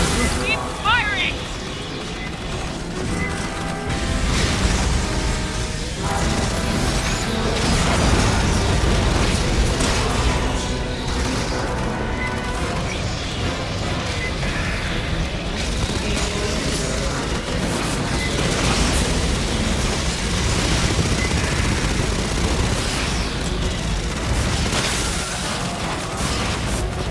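Sustained gunfire and booming explosions from Aliens: Colonial Marines, a dense, loud, continuous barrage with music and shouted voices mixed in throughout.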